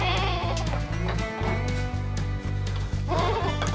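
A goat bleats in a farm stall, a loud, close, wavering cry rising twice over a rhythmic low pulsing.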